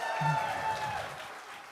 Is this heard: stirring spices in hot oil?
no